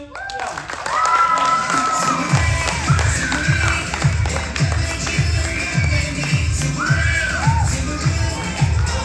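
A studio audience for a quiz game show breaks into applause and cheering, with steady clapping and rhythmic stomping thuds that hold strong for several seconds while a voice calls out over the crowd.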